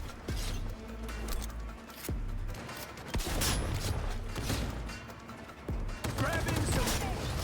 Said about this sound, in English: Using a shotgun!